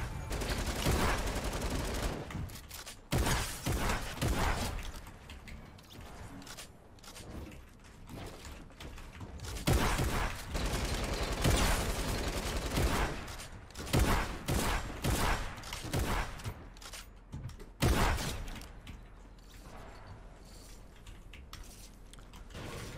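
Fortnite gunfire comes in repeated bursts of rapid automatic shots and fusillades, loud and close, with short pauses between volleys and mechanical clicks of weapon handling, and no voices.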